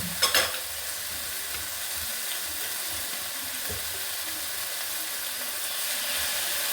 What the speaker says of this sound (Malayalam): എല്ലാം കൂടി എണ്ണയ്ക്കകത്ത് ഒരു നന്നായിട്ടൊന്ന് വെന്ത് വെച്ച് കൂടി വയ്ക്കാം.